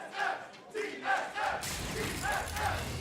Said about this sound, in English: You can hear the roars of the crowd.